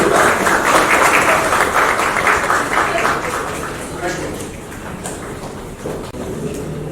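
A standing audience at an award ceremony applauds to welcome the governor with loud, dense clapping that is strongest at first and gradually eases off, with some talking mixed in.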